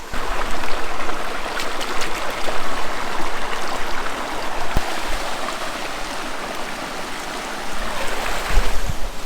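Boots being scrubbed and rinsed in warm spring water outdoors in Japan in winter, with steady rushing, splashing water throughout and no talk.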